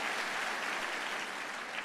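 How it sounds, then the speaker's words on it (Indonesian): Congregation applauding during a church sermon, a dense, even patter of many hands clapping at moderate volume for a couple of seconds without voices. "tepuk tangan buat Tuhan yang dahsyat"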